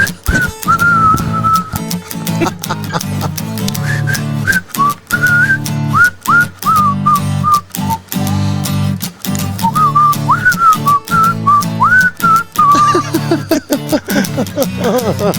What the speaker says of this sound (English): There's probably a whistling part here, I think.